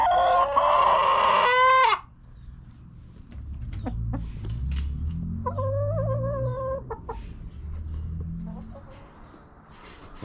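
A rooster crows loudly at the start, then chickens cluck and murmur in the yard in softer bursts, with a low background rumble.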